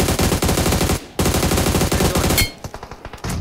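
Rapid automatic gunfire from the battle royale video game BGMI during a tournament match. Dense bursts of machine-gun fire run close and loud, break briefly, then resume before thinning to a few scattered shots.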